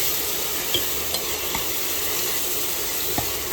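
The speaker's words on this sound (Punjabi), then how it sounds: "ਪਾਉਣ ਤੋਂ ਬਾਅਦ ਇਹਨਾਂ ਨੂੰ ਕੜਛੀ ਦੇ ਨਾਲ ਹਿਲਾਉਣਾ" Onion paste stirred with a ladle in a pressure cooker after browned cumin, loud steady frying sizzle with faint scraping taps of the ladle, no talking.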